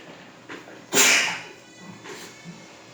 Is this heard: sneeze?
yes